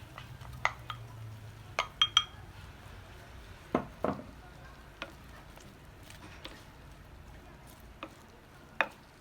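Onions go into a tajine pot with lamb, prunes and almonds. Faint sizzling runs under scattered clinks and knocks of a utensil against the pot.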